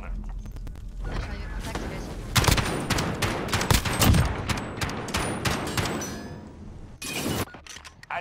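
Gunfire in Call of Duty Modern Warfare multiplayer, a rapid burst of loud automatic shots and sharp single cracks with thuds and impacts, followed by another short volley, over excited voices talking.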